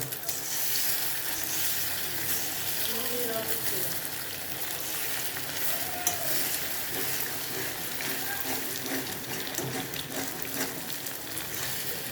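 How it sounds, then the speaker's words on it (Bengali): Three eggs frying in a pan, with a continuous hissing sizzle and occasional stirring scrapes close by, moderately quiet, and faint talk now and then underneath. "তিনখানা ডিম দিয়েছি, ডিমটা ভাজা হচ্ছে।"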